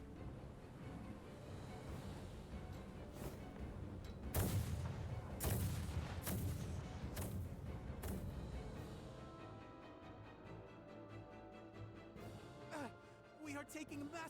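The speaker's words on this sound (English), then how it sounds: "Their unceasing bombardment is laying waste to our forces." Artillery bombardment from the Empire's naval ships in the video game Star Ocean: The Divine Force, a series of heavy booming blasts over a constant rumbling roar with crashing layered through it, and voices speaking in the scene.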